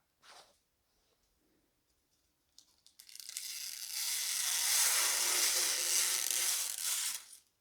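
Protective film peeled slowly off a Dodge Ram headlight, with a brief crackle first and then a sustained, close, hissing rip lasting several seconds.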